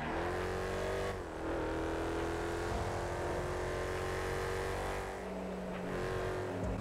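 An SUV driving in the video game GTA 5, a loud continuous engine drone with steady revving and a brief dip near the start, close and without talk.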